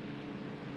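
Steady droning piston engine of a BF-109 fighter plane in the game ArmA II, a continuous low hum at moderate distance with no talk over it.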